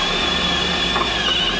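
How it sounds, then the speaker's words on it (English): A power drill bores out a subframe mount on an EG hatchback fitted with a 4G63 engine, giving a steady, close, continuous whine with a high tonal edge over gritty broadband noise for the whole stretch, with no talking. "Time to drill it out."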